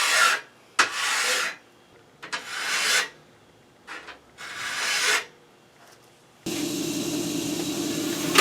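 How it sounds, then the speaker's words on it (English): Hand file rasping a micro bevel onto the cutting edge of a steel Roman gladius sword, a series of close, loud strokes with short pauses between them, ending in a longer continuous stretch of steady grinding. "I filed in the micro bevel that will be the actual cutting edge of the sword."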